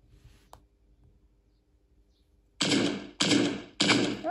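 Gunshots from a weapon in a mobile video game, three loud, close bursts following each other about half a second apart, after a quiet stretch with a single faint click.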